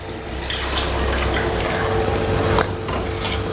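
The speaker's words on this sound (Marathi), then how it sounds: "आवश्यकतेनुसार भांड्यात पाणी टाकून हे सगळं जे भांड्याला लागलेलं आहे दाण्याचं वाटण ते काढून घेते" Water poured into a cooking pot coated with ground peanut paste for a tur bean aamti, a continuous splashing, gurgling stream, close and fairly loud, with no talk.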